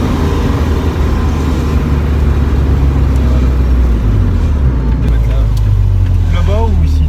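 BMW E36 325i idling and creeping at low speed into a parking spot, a steady close engine drone with a shift in pitch as it maneuvers, while people talk over it.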